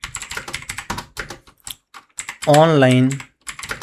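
Rapid typing on a computer keyboard, a steady run of close, crisp key taps, briefly interrupted by a voice speaking over it.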